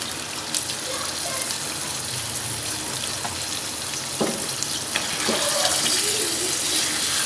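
Mutton stock (yakhni) poured into a cooking pot makes a steady watery gush that runs through the whole stretch, with a faint sizzle underneath and no talking.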